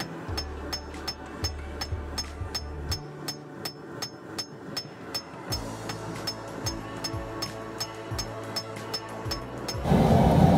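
A blacksmith hammers hot rebar on an anvil to flatten the jaw for a pair of tongs. The ringing strikes come close and loud in a quick, steady rhythm with a brief pause partway through.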